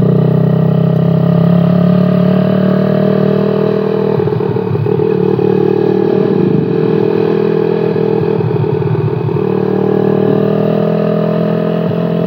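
A Suzuki Satria FU motorcycle with a BWK carburetor idles loud and close, a steady mid-pitched engine drone with a rougher, clattering patch in the middle and no voices.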